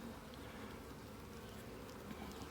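Honeybees hum steadily and faintly during a hive inspection, a continuous close buzz with no talking.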